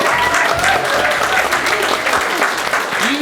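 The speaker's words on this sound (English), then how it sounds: "Let's just give her a round of applause." An indoor audience at an Agile Yorkshire talk claps steadily, a dense, even wash of applause filling the room without pause.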